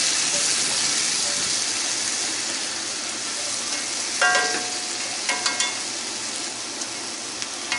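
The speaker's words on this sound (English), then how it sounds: "Gonna throw these onions in there. Let them steam for just a minute." Onions sizzle and steam in hot bacon grease while slider burgers are cooked, a steady close hiss with a few sharp spatters and clicks near the end and no talking.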